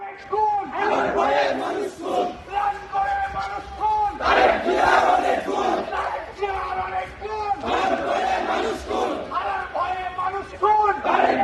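A crowd of student protesters at a political march in Bangladesh shouts slogans in unison, loud and near, with rhythmic call-and-response bursts of many voices repeating throughout.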